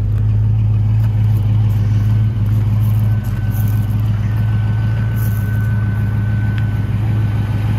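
A 1964 Ford Mustang engine runs steadily at a classic car dealer, a loud, low, even rumble that holds close throughout with only slight dips.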